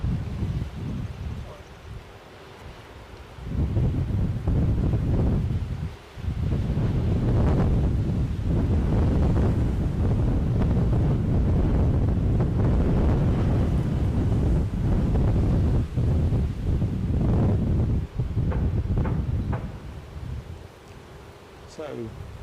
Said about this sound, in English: The wind is definitely supposed to ease up from midday onwards.